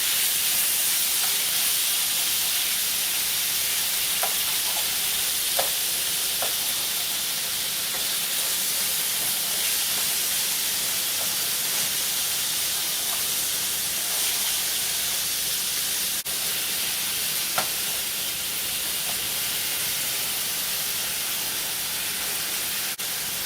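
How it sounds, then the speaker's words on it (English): Chicken breast chunks sear in a pan over medium-high heat, giving a steady, even sizzling hiss throughout with a few faint clicks, and no talking. "You're going to cut up 2 to 3 chicken breasts in chunks and put it in a pan, medium-high heat"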